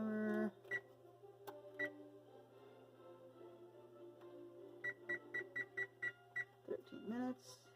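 A kitchen timer in a home kitchen gives a string of short electronic beeps while being set, first a few scattered and then a quick regular run, with a voice speaking briefly at the start and end.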